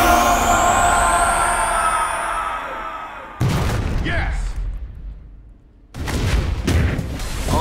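Heavy explosive booms from a hyper-bomb knockout in Marvel vs. Capcom Infinite, with a long roaring blast and rushing hiss that cuts out, then two more loud broadband bursts after a brief lull.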